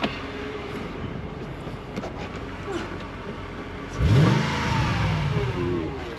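A Mercedes CLK55 at a dealer auction rumbles throatily into life after a few seconds of quiet background noise, then settles into a deep, steady idle close by.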